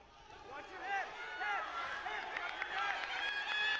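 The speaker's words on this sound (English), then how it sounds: "Crowd coming to life here in the third period of this opening matchup at 106" Home crowd at a high school wrestling match, LHS against Cumberland, cheering and rising in the third period of a 106 bout, a steady roar with shouts under a commentator's voice.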